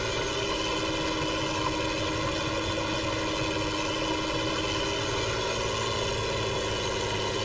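A Ford TW35 tractor engine idles in a steady, even diesel drone with a low, unbroken hum throughout.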